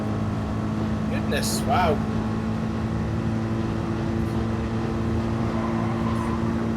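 A Gr.3 race car engine at high speed on the Mount Panorama circuit in a racing video game holds a steady, loud, buzzing drone, while a commentator briefly exclaims over it.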